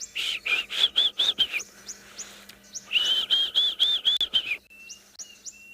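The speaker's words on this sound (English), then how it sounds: "there's a Diedrich's cuckoo going there" A loud, near Diederik cuckoo at sunrise gives a rapid series of rising whistled notes, pauses, then repeats the run, with softer calls trailing after.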